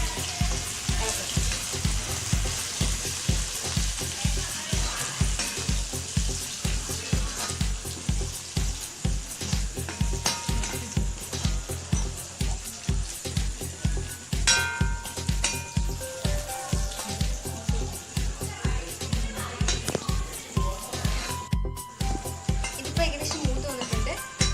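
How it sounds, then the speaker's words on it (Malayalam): Green chilies and curry leaves frying in oil while being stirred for chicken biryani, a dense continuous sizzle punctuated by rapid rhythmic spoon scrapes and clicks against the pan, close and steady. "ഇതിലേക്ക് നമുക്ക് പച്ചമുളകും കറിവേപ്പിലയും ഇട്ട് കൊടുക്കാം. ഇത് നന്നായിട്ട് ഇളക്കുക."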